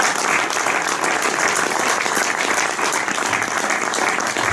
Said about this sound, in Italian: Io chiamerei un applauso.